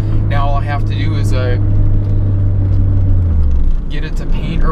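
A Nissan 300ZX engine, running after a misfire fix, holds a steady low idle hum throughout while someone talks over it.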